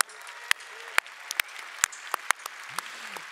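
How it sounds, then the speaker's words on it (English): Sparse audience hand claps at a Lenovo and FIFA technology event, a handful of sharp separate claps that never build into full applause. "shall we clap hands for Weiwei?"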